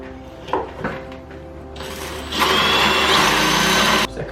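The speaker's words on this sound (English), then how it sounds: "Second hole drilled," A power drill bores holes into a wall during a body dryer installation at a care home, a short muffled whirring followed by a louder, sustained high-pitched drilling burst that cuts off abruptly.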